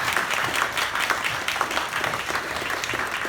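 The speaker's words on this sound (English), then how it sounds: "Give a big round of applause to Miki Megumi once again." Steady audience applause at a live leadership talk event, dense continuous clapping from many hands filling the room at moderate level with no talk over it.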